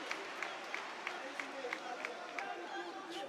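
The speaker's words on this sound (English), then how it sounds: "Brazilian faithful cheering for Beatriz Consuli." A Brazilian crowd cheers in the arena during an LFA MMA world title fight between Shannon Clark and Beatriz Consuli. The steady, fairly faint roar carries a regular clapping beat, with a commentator talking over it.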